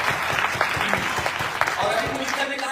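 Audience applause at a public event honouring a leader, steady clapping throughout the short stretch with someone talking over it.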